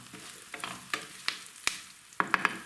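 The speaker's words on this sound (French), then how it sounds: "nous allons remélanger les morceaux d'oignon rouge" Red onion pieces fry in a pan while being stirred, a soft sizzle punctuated by a series of sharp utensil knocks and scrapes, with a quick cluster of clinks at the end.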